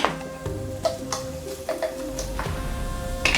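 Onion sizzles in a preheated frying pan with soft crackling, punctuated by scattered clicks and light scraping of a utensil against the pan.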